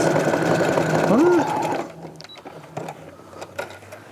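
A sewing machine runs a loud zigzag stitch to join flat layers laid one on top of the other, a dense mechanical whir that stops partway, followed by quieter handling sounds and a voice talking.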